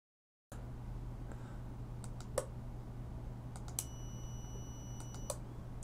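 Sparse, faint keystrokes on a computer keyboard tap out a few separate clicks over a steady low electrical hum in a quiet room, with no talking.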